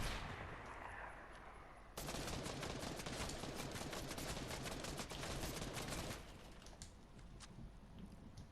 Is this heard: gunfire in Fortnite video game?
yes